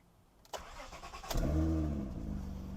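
A Honda Accord with a 3.5L V6 cranks with a short burst, then catches and settles into a steady, close, fairly loud idle after fresh spark plugs.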